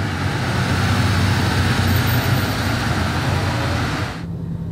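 Convoy of Porsche cars passing, a broad steady roar of engines and road noise for several seconds that cuts off abruptly near the end, moderately loud with no talk.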